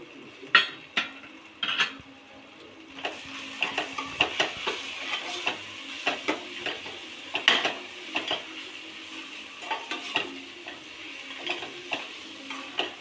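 Garlic paste, chili powder and salt sizzling in a pan, stirred with a utensil that clicks and scrapes against the cookware in a steady rhythm over a continuous close frying hiss, with no talk.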